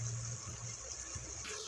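Water pours into a pot for chicken and pork bone broth, a steady close-up gush and splash that runs continuously, then shifts in tone near the end.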